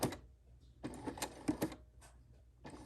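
A sewing machine stitches slowly over a thick seam while hemming, making short, separate bursts of mechanical clatter with brief pauses between them, close and fairly quiet.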